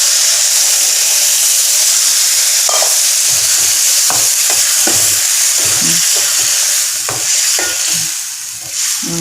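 Second coconut milk goes into a simmering ridge gourd sothi in a pot, with a constant bubbling hiss and scattered soft stirring clinks close by.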